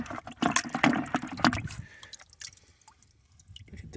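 Pieces of petrified wood collected at a ranch in Arizona are dunked in water, giving splashy sloshing and dripping that is loudest at first and then fades to faint trickles.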